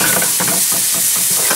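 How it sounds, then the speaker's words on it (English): Alcohol poured into a hot pan of hamburger patties flares up, a loud, dense, roaring sizzle with a rushing hiss throughout a brief moment, close to the pan. "And then we're going to flame."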